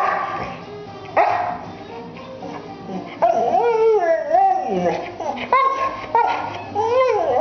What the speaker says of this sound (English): Quit barking, Marcus.